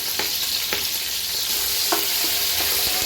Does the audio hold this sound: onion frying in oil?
yes